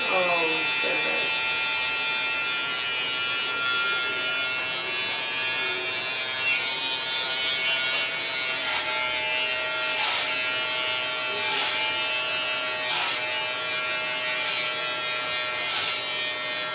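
Electric hair clippers buzz steadily through a man's haircut, a constant high-pitched motor whine with small shifts as the blades move through the hair, close and continuous, with people talking faintly underneath.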